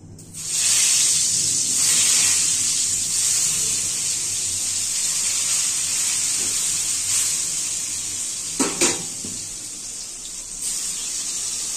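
Eggplant frying in a wok on a gas stove, a steady loud sizzling hiss that holds throughout with a couple of brief clatters near the end.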